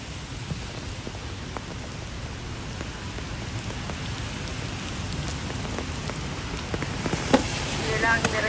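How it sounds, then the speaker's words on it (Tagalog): Steady rain patters on surfaces throughout at even loudness, with a few louder drops and splashes near the end and a faint voice murmuring underneath, outdoors on the way to an orchard. "Umuulan."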